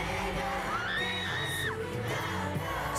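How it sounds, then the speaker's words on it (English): A large crowd at a BTS concert screaming and cheering in a continuous, dense roar, with a high rising whoop cutting through and occasional yells. "Screaming."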